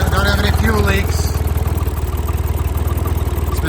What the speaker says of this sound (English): the motor is operating fine. We've been running for a few minutes